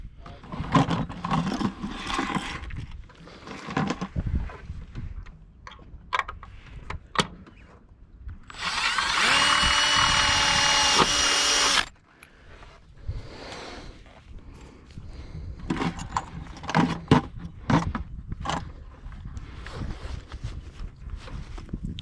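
A Milwaukee power drill runs in one steady, loud burst of about three seconds while someone works up a sailboat mast at anchor, with talk and handling clatter before and after.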